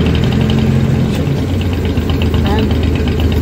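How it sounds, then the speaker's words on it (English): A lifeboat engine idles in neutral, producing a steady, close, continuous low rumble with a faint mechanical rattle throughout. "As you can see, the engine is running."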